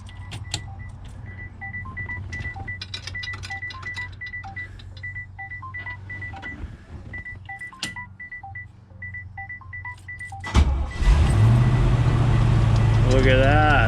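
A 1955 Chevy step van with a 350 engine and RV cam cranks after a series of dash warning chimes, then catches and settles into a loud, steady rumbling idle close by.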